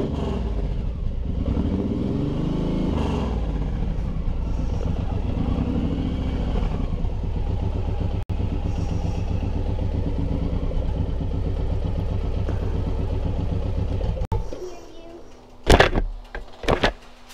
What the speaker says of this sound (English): The motorcycle is too loud.